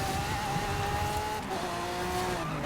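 Lamborghini Centenario racing in a video game, a constant, moderately loud engine whine with a rising pitched tone and some tire noise, no voices over it.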